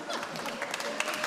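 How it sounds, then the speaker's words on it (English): A short burst of audience applause at a Matariki waiata and worship gathering, with dense overlapping clapping at a steady level for just over a second, with voices mixed in. "Where's the applause"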